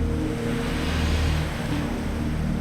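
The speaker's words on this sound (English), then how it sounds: "Hear the waves crash?" Ocean surf washes steadily onto a beach, a continuous low rushing roar with no distinct individual breaks, fairly loud and close with no voices.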